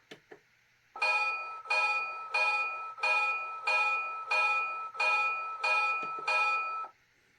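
A bright electronic bell from a toy train rings in a steady repeating pattern, about nine clangs in a row, each one loud and close, then stops.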